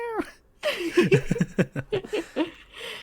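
A short cat meow opens, followed by people laughing and chuckling in quick bursts nearby.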